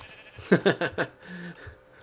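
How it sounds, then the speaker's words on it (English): A sheep in a video game gives a bleat of four quick wavering pulses, loud and close, followed by a fainter lower call. "oh, we got a sheep"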